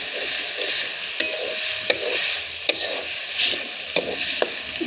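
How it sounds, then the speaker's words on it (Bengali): Spice masala frying and being stirred in a hot pan, with potatoes about to be added: a steady loud sizzle, broken by sharp spatula scrapes roughly every second. "কাঠিয়ে দেখো বাবা গো, এই যে মশলা কষানো হচ্ছে।"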